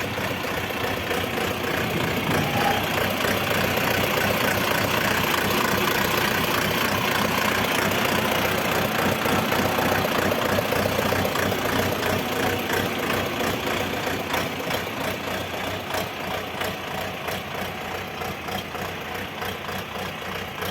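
A 2024 tractor engine idles steadily and fairly loudly for the whole stretch, with an even mechanical rumble and no voices.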